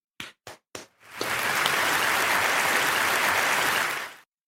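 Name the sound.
applause sound effect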